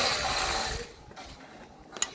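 Ratchet wrench cracking loose coilover suspension bolts on a Mazda MX-5, a dense mechanical clicking and grinding for under a second, then quieter sparse ticks and one sharp snap near the end.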